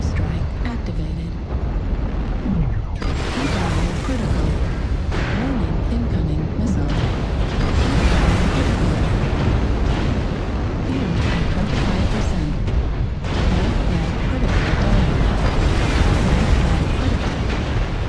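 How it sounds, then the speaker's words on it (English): Heavy, continuous booming explosions roll and overlap from a video game airstrike, with loud rumbling blasts under dense game sound and intermittent talk. "Airstrike activated."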